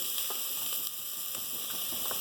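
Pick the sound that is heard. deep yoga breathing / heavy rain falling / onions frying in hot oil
onions frying in hot oil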